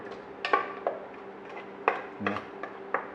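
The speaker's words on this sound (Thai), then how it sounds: "ตอนนี้เราก็เจียวมะเขือเทศ" A utensil stirs tomatoes frying in a pan for a vegetarian okra stir-fry, making irregular, close metallic clinks and scrapes against the pan with a low background hum.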